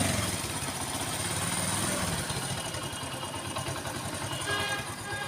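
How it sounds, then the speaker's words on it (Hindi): Honda CD 70 motorcycle engine running with a misfire, a steady close, loud idle with an uneven, stumbling pulse throughout. "अब इसको जो है ना स्टार्ट करता हूँ मैं, और इसकी जो है ना मिसिंग दिखाता हूँ आपको"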